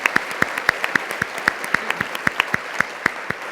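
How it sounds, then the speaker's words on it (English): Steady applause from a sizeable crowd at a conference plenary, many claps blending into a continuous patter, loud and close, with no voices over it. "Let's give they a round of applause."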